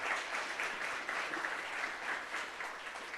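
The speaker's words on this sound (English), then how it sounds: "You can save your applause till the end." Audience applause during a museum panel introducing guests, a soft, distant, continuous patter of many hands clapping at low volume throughout.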